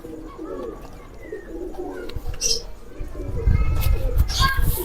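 Ferozpuri pigeons coo softly in low rolling calls while someone talks over them and children's voices sound in the background, growing busier toward the end.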